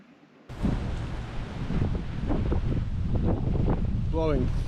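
Strong gusting wind of around 30 knots buffets the microphone aboard a sailing boat, a steady loud roar with broadband rushing, while voices talk faintly underneath.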